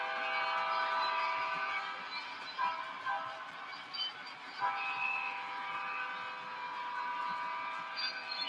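An S gauge model train with diesel sound runs steadily, its continuous engine hum and rail rumble overlaid with horn-like tones and occasional louder swells, with no speech.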